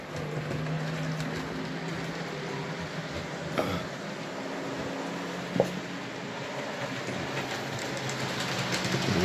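Model railway wagon of European design running along a layout track, a steady low rolling rumble with a couple of brief clicks from rail joints, fairly quiet and without talk.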